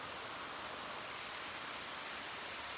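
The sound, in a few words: rain shower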